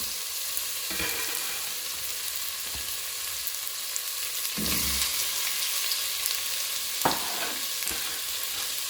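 Onion frying in a pan makes a soft, constant sizzle, broken now and then by a few scraping stirs and knocks of a utensil, heard up close with no one speaking.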